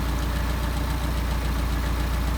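A car engine with Solex 44PHH carburetors idles at about 750 RPM, giving a steady, close, even low rumble with a regular pulsing beat throughout and no voices.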